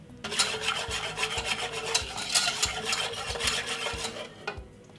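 Melted chocolate being stirred for hot chocolate: a spoon scrapes and rubs rhythmically against the pot in repeated close strokes, quiet and steady.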